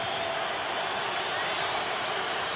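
A stadium crowd in Cleveland roars steadily at a Browns vs Bengals football game, a dense, unbroken wash of cheering and noise with no pauses.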